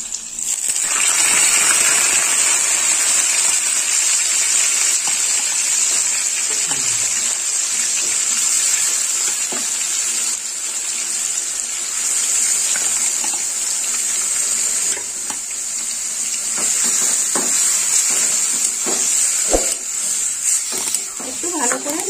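Salted radish pieces frying in a pan make a steady, broad hiss up close, with occasional faint clinks throughout.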